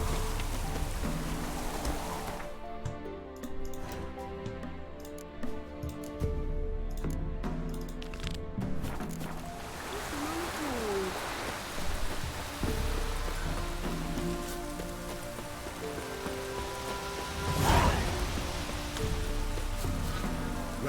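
Steady rain falls in The Witcher 3 while a broad, noisy wash patters throughout, with a brief louder crack or rumble near the end over the game's background music.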